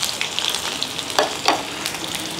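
Steady crackling sizzle of shallots frying in hot oil after mustard seeds, with a couple of sharper spits and pops standing out near the pan.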